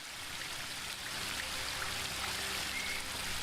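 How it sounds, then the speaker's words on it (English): Waterfall ambience in the fantasy adventure game The Book of Unwritten Tales 2, a soft continuous rushing and splashing of water, fairly quiet and even, heard alone without voices. "The waterfall and I have been neighbours for so long that I don't really hear it anymore."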